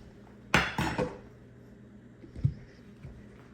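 A metal lid clanks down onto a pot of meatballs in a slow cooker, a close rattling clatter followed by a softer knock a couple of seconds later.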